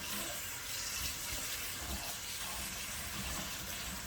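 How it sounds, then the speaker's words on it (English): Tap water runs steadily into a bowl of rosella calyxes being washed for jam, a continuous close splashing gush with no talk. "So I'm just going to open some water."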